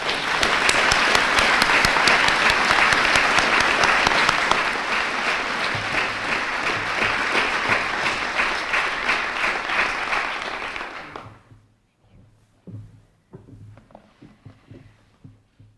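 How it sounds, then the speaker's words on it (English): Loud, sustained applause from a large crowd in an atrium at a college dedication fills the space for about eleven seconds before fading out, followed by a few scattered claps. "So I ask you to applaud Dr. Fox and her staff."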